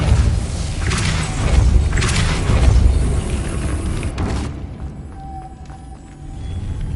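Depulso spell cast in Hogwarts Legacy: a loud, close, heavy booming blast with a rolling thud that fades after about four seconds into quieter game ambience.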